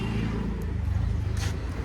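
A car engine runs with a low steady rumble from inside the vehicle, a faint hiss riding over it, with a brief voice in the background.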